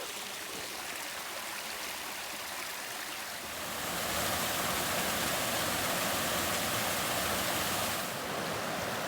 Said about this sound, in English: Beautiful looking stream.